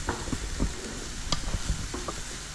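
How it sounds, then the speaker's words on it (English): Chicken quesadilla filling sautéing in a pan, a soft steady sizzle with a few scraping stir strokes against the metal, close and moderately loud with no talking. "we saute it a bit, then we'll keep it aside"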